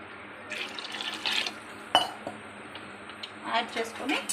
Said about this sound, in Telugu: దీంట్లో ఒక 3 చెంబులంతా వాటర్ యాడ్ చేసుకోవాలండి.